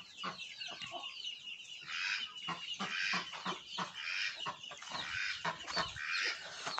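Backyard chickens clucking and calling near a coop in a garden, with a duck among the flock; a busy, overlapping stream of short clucks and cries, close and fairly loud, with no talking.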